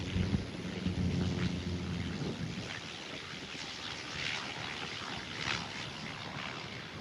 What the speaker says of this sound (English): Got a Cessna Grand Caravan landing on runway 8 here at the North Complex.